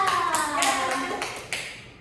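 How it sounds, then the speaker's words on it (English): A classroom gives a student a round of applause during a teaching lesson: a few evenly spaced sharp claps over steady tonal background sound that fades toward the end. "Give applause to Indah."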